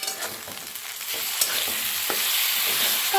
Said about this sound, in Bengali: আমি এর মধ্যে দিয়ে দেব ফেটিয়ে নেওয়া টক দই